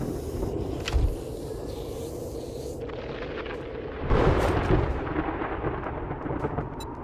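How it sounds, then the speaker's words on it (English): Thunder rolls through a windy storm in 7 Days to Die, a low, continuous rumble under a steady rush of wind, with deeper swells of thunder about one and four seconds in. "This storm would complicate things."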